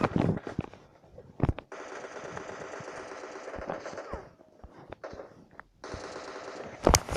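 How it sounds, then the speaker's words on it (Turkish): Automatic gunfire from a firefight in the mobile battle royale game PUBG Lite, with long rattling bursts and a few sharp single shots between them, fairly loud and with no talk over it. "Oha dört kişiyle birden çatışıyorum"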